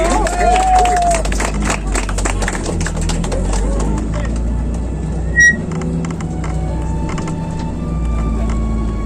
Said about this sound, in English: Let's just give a round of applause here for our Captain Keith, right?